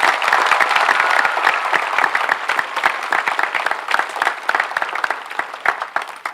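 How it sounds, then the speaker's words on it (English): Sustained applause from a high school commencement audience, steady and dense clapping that continues at full strength throughout with no talking over it. "Let's give them a round of applause."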